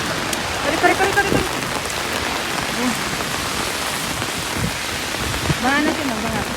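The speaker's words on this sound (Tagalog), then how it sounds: "Umuulan guys, umuulan." Heavy rain pouring steadily onto surfaces, a dense continuous hiss that fills the whole stretch, while people speak briefly over it now and then.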